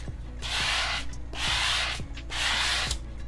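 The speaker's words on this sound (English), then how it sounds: "I'm going to take a chamois and I'm just going to rub or wipe the" A chamois cloth is rubbed over a colouring page in three steady, soft swishing passes, each with a light tap as it starts or ends, close up and quiet.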